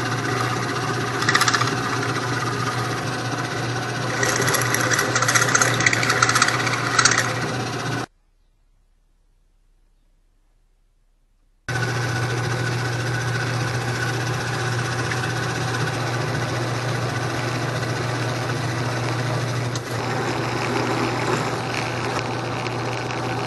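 A power drill boring holes, with the bit left to cut under light pressure; a steady close whir with rattling bursts, broken by a few seconds of silence before the drilling resumes.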